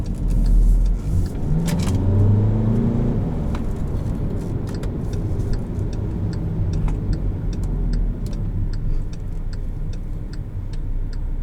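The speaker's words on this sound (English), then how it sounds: "you can faintly hear the typical diesel rattle, but it's not pronounced by any means." 2015 Volkswagen Jetta TDI diesel heard from inside while driving: a low engine drone and road rumble with a faint, rapid ticking rattle layered over it, steady and subdued throughout with no one talking.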